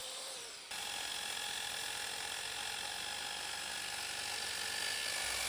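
A metal cutting saw slices through 1x1 angle iron, a steady loud high-pitched grinding whine running almost the whole time after a short lead-in, close and continuous.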